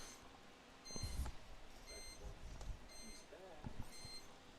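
Periodic electronic beeps in a baseball broadcast booth, four evenly spaced high chirps sounding faintly under a commentator's talk and crowd noise.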